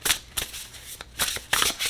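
Oracle cards are shuffled by hand in quick rhythmic riffling bursts, close and crisp, with short pauses between them.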